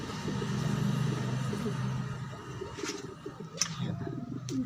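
Pigeons coo at the trapdoor of a pigeon loft, with low, close, repeated cooing throughout, a few sharp clicks and flutters, and faint traffic in the background.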